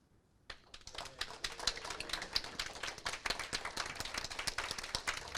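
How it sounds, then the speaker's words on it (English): Scattered audience clapping at a live crypto debate event, starting abruptly after a brief silence and continuing as a sparse, crisp patter of individual claps, fairly quiet overall. "I will ask the audience a round of applause for who thinks the affirmative won"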